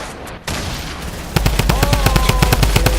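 Rapid automatic gunfire in a video game erupts loud and close, a steady burst of repeated shots after a rougher opening stretch, with heavy booms from grenade launcher fire mixed in.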